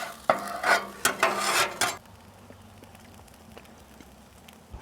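A metal spatula scrapes ground beef grease across a hot Blackstone griddle in a few loud, close strokes with some sizzle, then the scraping stops and only a faint low hum and light crackle are left.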